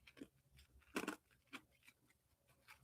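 Someone bites down on and chews a dragonfly, giving soft, close crunches in a few irregular bursts with one stronger crunch, faint overall and with no talking.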